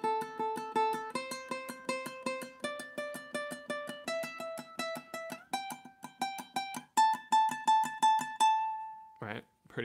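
Ukulele tremolo picking exercise played slowly, a steady rapid stream of repeated picked notes stepping through a series of pitches, close and clear, ending with a brief rustle.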